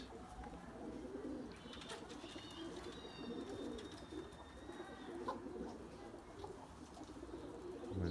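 Erzurum white pigeons cooing in their coop, soft low murmuring coos repeating steadily through, with faint chirps and thin whistles from other birds in the background and no talk.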